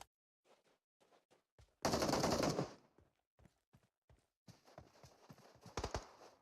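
Bursts of MG3 machine gun fire in a PUBG Mobile match, a long sustained volley near the start and another rapid burst later, among scattered shorter gunshots and clattering impacts.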